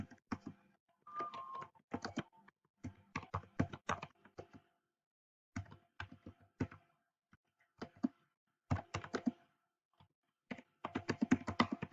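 A computer keyboard taps out a short note to students in quick, uneven clusters of soft clicks with brief pauses between bursts, quiet and close, with no speech.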